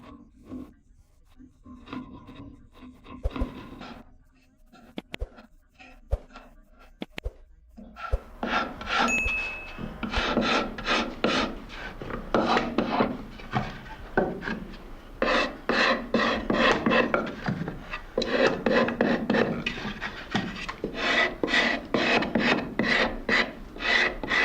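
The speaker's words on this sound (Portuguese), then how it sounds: "no som do metal contra a fibra" A steel Schraubmesser blade is drawn by hand across a wooden workpiece, scraping against the grain in repeated rasping strokes, sparse and uneven at first, then settling into a dense, steady rhythm of close, fairly loud scrapes.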